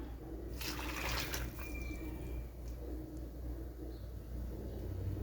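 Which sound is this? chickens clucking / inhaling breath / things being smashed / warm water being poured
warm water being poured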